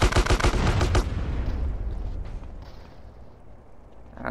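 Rapid burst of gunfire from a favored gun in the video game GTA San Andreas, loud and evenly spaced shots for about a second, then a fading rumble and quiet tail with no talk.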